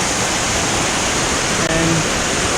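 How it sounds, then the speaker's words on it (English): Waterfall in the Valley of Flowers, a steady loud roar of falling water filling the whole clip, with a glacier and snowy slopes nearby. "standing in front of the waterfall right now"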